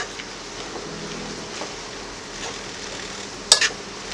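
Fried plantain and eggs are stirred in a pan with a faint, steady sizzle and soft scraping, ending with a brief sharp utensil clink near the end.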